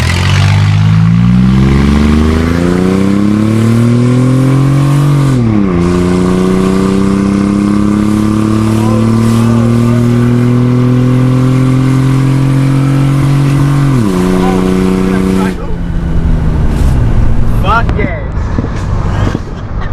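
Car fitted with a custom exhaust pulls away hard, its engine roaring close and loud as it climbs through the gears with two distinct shift dips. Revs fall away near the end, and a voice speaks under the engine noise.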